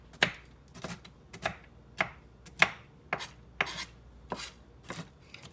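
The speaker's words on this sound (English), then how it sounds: "now we're gonna take and just rough chop our walnuts" Walnuts rough chopped with a knife on a cutting board, a steady series of about a dozen sharp, close chopping thuds at an even rhythm, with no talk.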